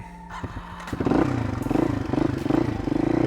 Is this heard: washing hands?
no